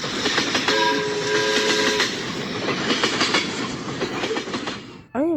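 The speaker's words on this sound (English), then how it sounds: "Train." A train passes close by with rhythmic clickety-clack over the rails, a brief two-tone horn blast early on, and a steady rolling roar that drops away near the end.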